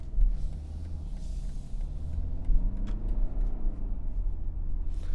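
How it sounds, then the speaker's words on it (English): A 2020 BMW 320d with its diesel engine running while driving, heard as a steady low rumble under the cabin with mild road noise and no talking. "you can still hear the diesel engine a lot"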